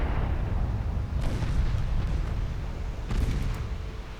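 Distant naval combat in Ultimate Admiral Dreadnoughts with torpedoes striking battleships: a low rumbling bed broken by a few dull booming impacts, one near the middle and another stronger hit late.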